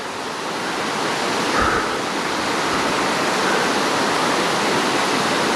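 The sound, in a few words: waterfall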